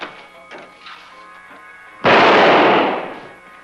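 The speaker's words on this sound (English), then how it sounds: "Relax, it's just some champagne we ordered." A champagne cork pops loud and close in a quiet room, bursting into a broad hissing rush that lingers about a second before fading, with faint murmuring beforehand.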